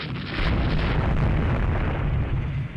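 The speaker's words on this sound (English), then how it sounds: "our aircraft are actually hitting Dunkirk now" Loud, continuous rumbling explosions from aircraft strikes hitting enemy ships in the naval strategy game Rule The Waves 3, a dense roar of blasts sustained throughout with no talk.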